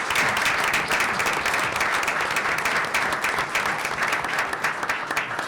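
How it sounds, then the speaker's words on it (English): A township council meeting audience applauds a reassigned police officer with steady, full clapping that fills the room throughout, with no talk over it. "he deserves a round of applause for that"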